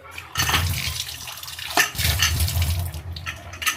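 Water poured into a pressure cooker in a home kitchen, a splashing, running-water stream in two bursts with a brief pause between, fairly close and steady, with no talk over it.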